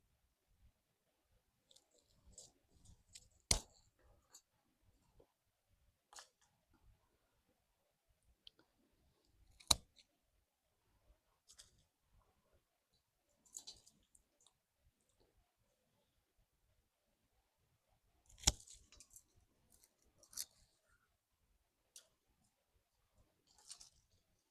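Shears trim side shoots off a plant in a quiet room, giving a sparse series of crisp snips and clicks a few seconds apart, with soft rustling between them and no talk.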